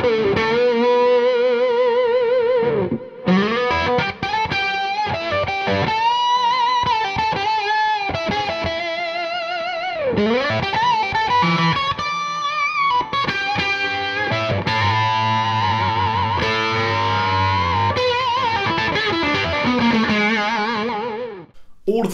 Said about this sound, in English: All of the tones you're hearing are courtesy of the Red Dwarf, a bunch of cool pedals including the Golden Plexi.